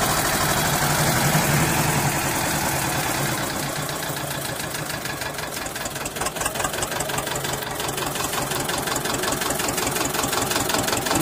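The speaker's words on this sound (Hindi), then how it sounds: "ये दो सिलेंडर का ट्रैक्टर है" A two-cylinder tractor engine runs steadily close by during tree-root removal work, its loud, continuous chugging and knocking holding throughout with no talk.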